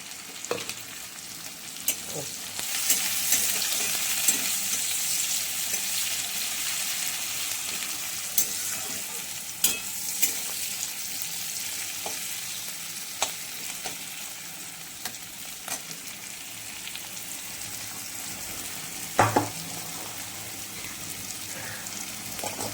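Crushed garlic and green chillies frying with spinach in a pan, a steady close sizzle and crackle with occasional stirring scrapes throughout, no talk.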